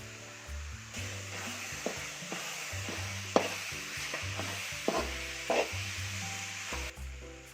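Grated coconut goes into a hot pan and is stirred with a steady scraping rhythm, repeated knocks of the spoon against the pan over a soft continuous sizzle, close and fairly quiet.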